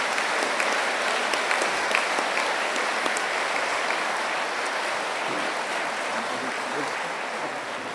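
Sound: audience applause during president's oath signing

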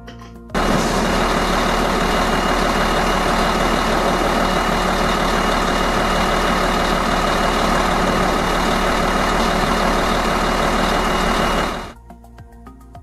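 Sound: truck engine

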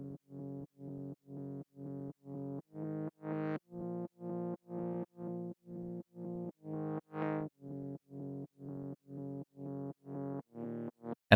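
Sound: distorted saw wave synth layer

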